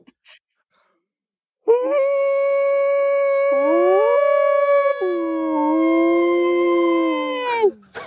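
A man imitates a howling dog with one long, loud, sustained howl that rises, dips and wavers in pitch before tapering off, heard close and alone.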